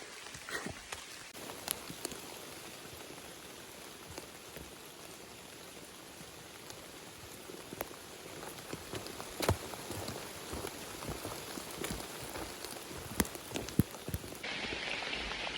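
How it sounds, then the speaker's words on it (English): Steady rain patters down on surfaces during a Long Trail thru-hike, a continuous wash of drops with scattered louder splashes close by. "Okay, it's really raining now."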